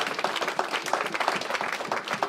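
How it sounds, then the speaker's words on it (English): A church congregation clapping hands together in a brisk rhythmic pattern, moderately quiet and continuous, without any talk over it. "So we give a hand clap unto the living God."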